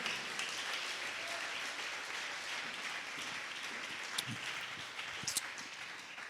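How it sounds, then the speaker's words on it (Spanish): A church congregation applauds during a Spanish-language sermon, a steady, moderately quiet wash of clapping that holds evenly throughout with a few sharper claps standing out. "Ese aplauso fuerte para el Señor."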